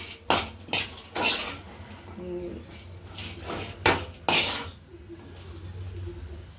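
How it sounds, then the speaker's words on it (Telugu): Coconut pieces and green chillies are fried and stirred in a pan, giving repeated sharp scrapes and clanks of a utensil against metal at an uneven rhythm, with a voice briefly heard in the background. "కొంచెం కొబ్బరి ముక్కలు పచ్చిమిరపకాయలు కొంచెం కలర్ మారాలి. ఇవ్వండి ఇలా వేయించుకోవాలండి."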